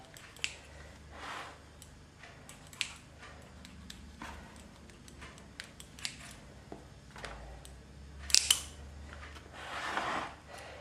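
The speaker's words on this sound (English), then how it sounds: "I'm just going to cut off the excess dough" A knife or cutter trimming excess puff pastry dough from the edge of a spinach pie, quiet scattered cuts and taps with a louder burst of scraping and handling near the end.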